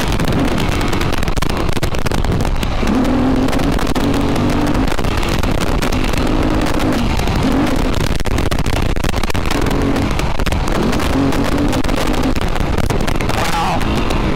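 A stock ATV engine revs and drones steadily through a ride, loud and close with wind buffeting the microphone and a voice briefly talking over it.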